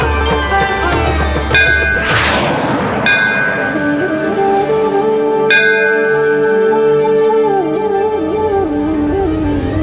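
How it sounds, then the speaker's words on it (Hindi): A temple bell rings out loud and close, a bright struck tone with long shimmering overtones, then two more strikes that ring and fade slowly over a low rumble. "मंदिर का घंटा अपनी ध्वनि से उसका मार्गदर्शन करता है"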